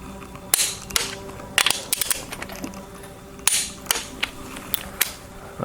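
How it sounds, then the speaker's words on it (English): A torque wrench clicks sharply as it tightens bolts on a Ford 351C engine being built for a 1970 Mustang Mach 1, with repeated ratcheting and loud snapping clicks in quick bursts, close up with no talking. "you want a smooth torquing motion"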